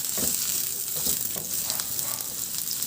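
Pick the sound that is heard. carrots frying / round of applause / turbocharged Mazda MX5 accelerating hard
carrots frying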